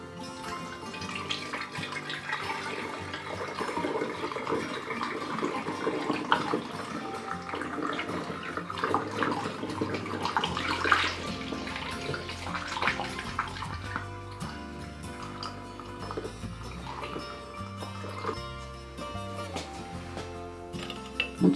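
Home-made hard cider poured from a container through a funnel into bottles, making a continuous close trickling and splashing of liquid that runs steadily with small gurgles throughout.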